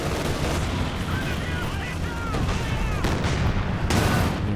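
Incendiary artillery shells rain down in a Company of Heroes 2 multiplayer battle, a steady dense roar of distant booms and crackling gunfire layered under battlefield noise, with faint whistling streaks overhead.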